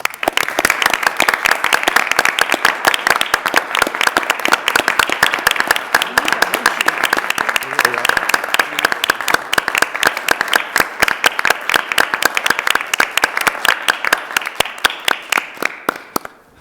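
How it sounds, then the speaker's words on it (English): A room of attendees at a school board meeting gives sustained applause, dense and steady clapping for about sixteen seconds before it tapers off at the end. "I wonder if we could have a round of applause for Dennis and for David."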